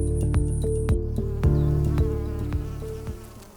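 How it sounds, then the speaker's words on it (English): Close, steady buzzing of bees droning continuously around cashew trees on a smallholder farm, with faint clicks and knocks underneath. "The bees are also not only pollinating the cashew tree"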